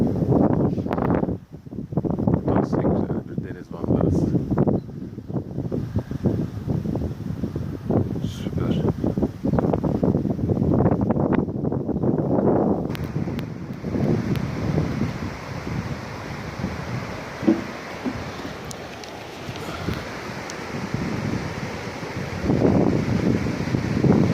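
Düden waterfall in Turkey gives a broad, steady rushing roar, heavy with wind buffeting the microphone and no voices.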